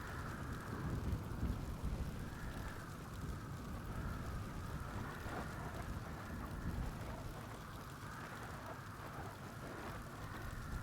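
Steady rain with low rumbling thunder in GTA NoPixel, a continuous soft wash of rainfall over a deep background roll, faint and unbroken throughout.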